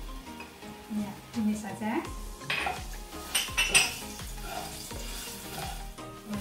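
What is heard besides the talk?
garlic sautéing in a pan for noodles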